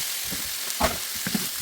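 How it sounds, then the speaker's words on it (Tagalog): Beef cubes sizzle in a pan with cinnamon stick and star anise, a close, even frying hiss broken by a few soft stirring knocks. "then let's put now our beef"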